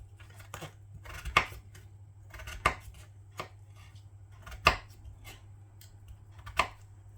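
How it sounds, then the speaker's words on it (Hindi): Potatoes sliced thinly with a knife on a board, crisp chopping knocks falling irregularly about once a second, close and fairly quiet in a calm room with no voices. "अब इनको पतला पतला सा काट लेते हैं स्लाइसिस में"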